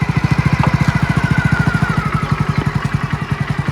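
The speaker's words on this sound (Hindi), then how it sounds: "अब एक्सीलरेशन देना शुरू करो, क्लच एक ही जगह पे होल्ड है" A motorcycle engine runs in first gear with the clutch held, giving a close, loud and rapid regular thumping pulse that holds steady throughout.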